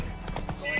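Roach, the horse in Witcher 3 Wild Hunt, gallops with quick rhythmic clip-clop hoofbeats in a short burst, under a speaking voice.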